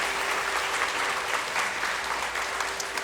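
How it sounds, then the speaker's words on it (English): Sustained, even applause from a gathered audience welcoming chief guest Sri Gopal Ponnangi at a Pranavam celebration, steady dense clapping without pauses, moderately loud and heard alone. "Please give him a big round of applause."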